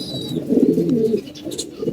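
Pigeons in a loft cooing nearby, a soft low rolling coo repeated in short throaty bursts, with a faint thin chirp at the start.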